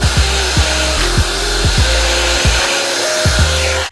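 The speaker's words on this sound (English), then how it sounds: "I'm gonna get the blow dryer and blow dry over it so it could dry real quick" Handheld blow dryer running steadily over fresh paint on a canvas, a loud close whirring hum with a repeating pulsing thump as it is swept back and forth.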